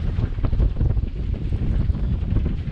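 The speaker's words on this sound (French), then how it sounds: "il y a beaucoup de vent, ça rentre plein fer" Strong wind buffets the microphone at a sandy beach cove, Cala Longa, with sand blowing across the beach, a steady loud roar with gusty surges and no voices.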